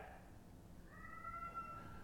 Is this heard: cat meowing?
yes